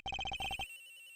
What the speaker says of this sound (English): Sounds like the phone is up in the flight attendant's room.